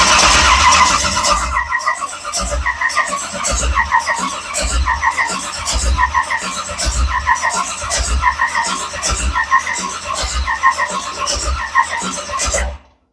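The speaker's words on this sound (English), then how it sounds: "going to crank the motor, get some oil pressure built up before we actually set it off" A dirt modified race car engine cranking over on the starter in a fast, rhythmic chug before its first fire, loud and close, with a high whine over the top that drops away early, then a sudden stop.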